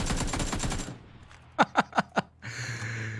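Four sharp gunshots fired in quick succession in a zombie game mode, loud and close, following a burst of louder game sound and ending as background music returns.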